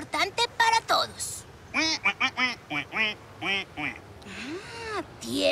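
A cartoon duck character quacks in a rapid series of nasal, voice-like quacks, close and fairly quiet, in short bursts separated by brief pauses.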